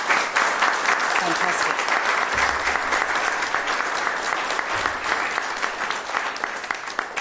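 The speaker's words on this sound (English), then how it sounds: "So please, a round of applause for the work that Kat does." Sustained applause from the audience at a public oration, steady and dense throughout, with a voice briefly speaking over it.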